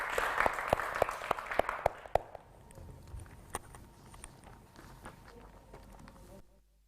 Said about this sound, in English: big applause for Dr.